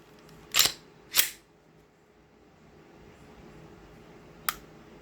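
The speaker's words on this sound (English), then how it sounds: "There's your reset." Glock pistol trigger on an unloaded gun gives two sharp, close mechanical clicks in quick succession, the break and then the reset, followed after a pause by a third fainter click in a quiet room.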